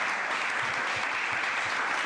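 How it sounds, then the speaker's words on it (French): A studio audience on a 2M TV game show claps loudly for a contestant, dense continuous applause held steady for a couple of seconds. "on peut applaudir bien fort notre candidat"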